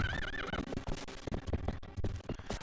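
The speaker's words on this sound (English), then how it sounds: "when I have to call a horse to get over the fence?" A horse neighs in a video game, its whinny wavering through the first half-second, followed by busy game sounds and hoof-like thumps in the background.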